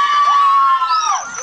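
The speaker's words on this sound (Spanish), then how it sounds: "Un fuerte aplauso para Dani! ¡Y el grito de las niñas" Girls scream at a Christmas expo, a sustained shrill high-pitched cry with a rising squeal at the end, loud and continuous, with a faint crowd noise underneath.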